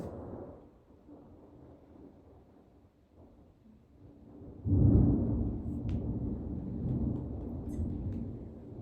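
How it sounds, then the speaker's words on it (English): A Colorado thunderstorm passes by, with faint rain early on, then a loud, deep thunder rumble that swells and rolls on for several seconds, close and continuous. "We are having a Colorado thunderstorm passing by."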